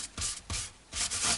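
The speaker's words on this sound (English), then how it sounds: "a process of sanding with different grades of sandpaper to get these into a really nice, smooth, rounded frets again" Sandpaper of varying grades rubbed over the metal frets of an unbranded Telecaster-style electric guitar, heard as four close, steady scraping strokes in a rhythmic back-and-forth with short pauses between them.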